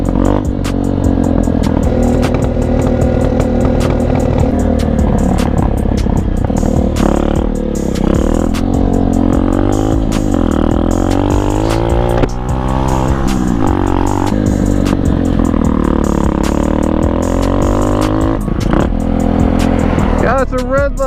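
A pit bike engine revs hard while the rider pulls a wheelie on a street, its loud, continuous buzzing roar rising and falling through the whole stretch, with traffic noise mixed in.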